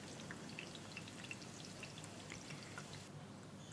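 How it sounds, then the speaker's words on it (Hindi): Finely chopped onions, two medium ones, frying in oil over high heat in a home kitchen, a steady close crackling sizzle with scattered pops running throughout, no talking. "तेज़ आंच पर मैं प्याज को फ्राई कर रही हूँ।"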